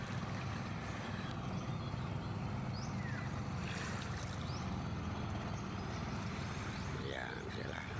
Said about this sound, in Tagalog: Motor di bangka.